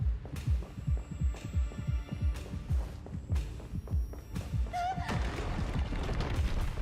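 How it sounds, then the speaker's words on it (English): Heartbeat sound effect in Honkai: Star Rail, a steady run of deep, loud thumping beats, roughly two per second, looping over a low game hum, with a brief rising tone near the end. "Got the heartbeat sound going on."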